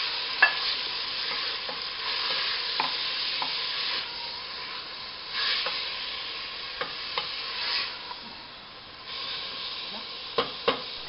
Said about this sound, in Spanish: Y ahora aquí vamos a poner la carne. La carne nada más se va a sellar.